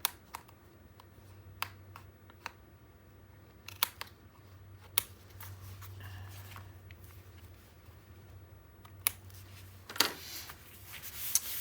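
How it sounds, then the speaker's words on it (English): Scissors trimming paper for a 9 x 9 mini album, a series of sharp isolated snips and clicks spaced irregularly over a quiet room hum, with a brief rustle near the end. "And I'm going to trim this real quick while I'm here."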